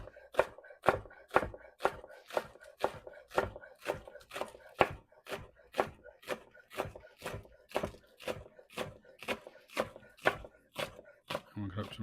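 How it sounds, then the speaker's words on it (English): A knife chops fresh dill on a cutting board in a home kitchen, making about two dozen steady, evenly spaced sharp knocks, close and moderately loud, with no talking. "I'm going to cut up some fresh dill as well."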